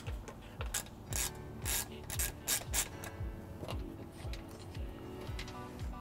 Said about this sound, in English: we're gonna remove these using a 10 millimeter socket